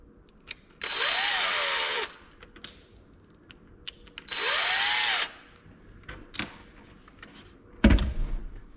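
A power driver spins out 2.5mm screws on a Traxxas Slash or Rustler 4x4 RC car, in two close, loud whirring bursts that rev up and wind down, with light clicks and handling noises between them.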